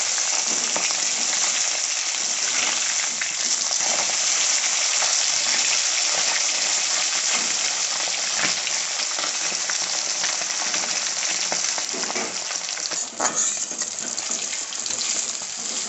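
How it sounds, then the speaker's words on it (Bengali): Pieces of rui fish fry in hot oil until browned red on both sides, giving a loud, continuous crackling sizzle up close. A brief burst of extra spatter rises near the end, and no voices are heard. "মাছটা এপিট ওপিট লাল করে ভেজে নেব।"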